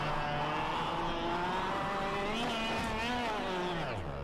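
Go-kart engine in the KartKraft racing game, a buzzing motor whining upward in pitch as it accelerates, steady and fairly loud with a rising and falling tone over a few seconds.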